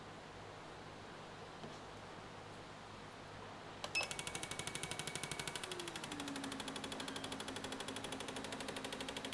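Autoool CT160 injector tester pulsing a fuel injector during an idle speed test, starting after a few seconds of quiet hiss as a rapid, even train of sharp ticking pulses that continues steadily and close to the end.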